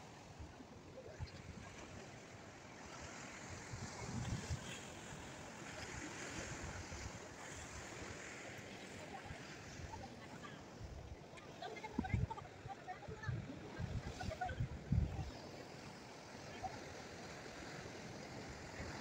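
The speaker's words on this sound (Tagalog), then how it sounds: "Wave collision in Taiwan." Sea waves colliding off the coast of Taiwan, a continuous broadband roar of surf with wind buffeting the microphone and heavier crashes swelling around the middle and later part.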